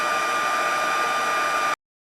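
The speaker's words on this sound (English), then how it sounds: "I'm just going to hold the heat gun over top of the powder" A heat gun blows over embossing powder on a card, giving a steady, loud, close whooshing hum with a faint whine, then cutting off abruptly into silence.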